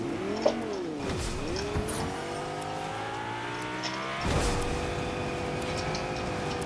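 A car in the video game Fortnite drives and revs, its engine tone rising and falling with gear shifts and a brief tire squeal, steady and close throughout with no talk.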